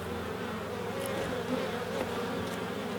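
Honey bees hum steadily at an open, crowded hive, a dense continuous drone up close with individual bees buzzing briefly past.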